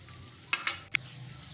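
Ginger garlic paste sautés quietly in a pan, with a faint steady sizzle broken by three short scraping stirs of a spoon against the pan, no talking.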